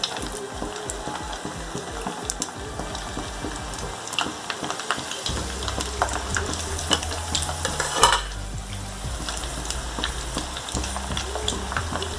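Rava potato fingers fry in hot oil with a dense, continuous crackling sizzle, close and steady, with occasional stirring clinks and scraping over the bubbling throughout.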